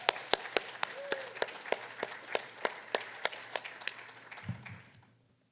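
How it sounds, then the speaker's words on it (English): A small staff-meeting audience claps in sparse, distinct claps, each one crisp and clearly separated, before the sound thins out and stops. "let's give yourselves a really big round of applause."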